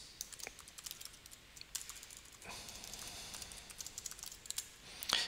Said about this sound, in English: So I put in an email address.